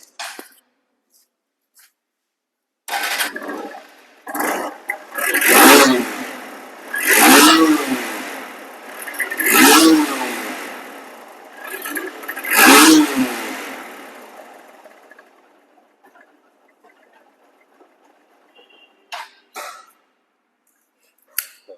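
A second-hand 2022 double-disc ABS motorcycle engine revs hard several times in a row, each throttle burst rising and falling, then settles back to a low idle.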